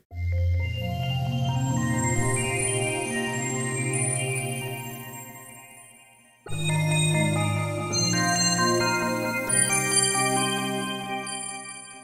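A Roland JD-800 synthesizer plays a lush chord that swells and slowly fades, then a second rich, sustained chord enters abruptly, layered with shimmering high tones.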